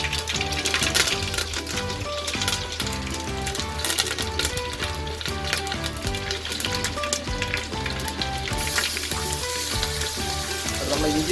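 Mustard seeds and curry leaves frying in hot oil for homemade chicken fried rice, giving a steady, dense sizzle that runs throughout beneath tonal background music.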